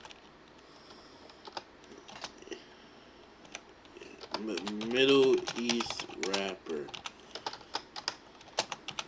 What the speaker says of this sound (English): I got my cord in the way, so I'm barely typing.